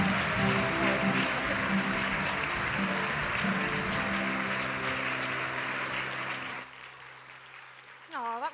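Audience applause at a book awards ceremony, steady sustained clapping that fills most of the clip before fading out, followed by a brief voice at the end.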